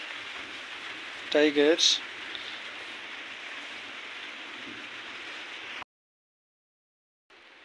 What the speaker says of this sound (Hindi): थोड़ी बारिश भी कम हो गई है।